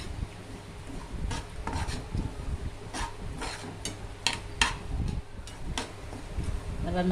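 Semolina dry-roasting in a pan for kesari, with the spoon scraping and scratching in an uneven stirring rhythm and occasional light metal clinks, faint and close, over a low background hum.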